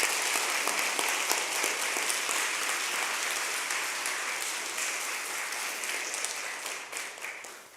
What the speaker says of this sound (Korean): 우리 두 분에게 한번 축복의 박수 해주시기 바랍니다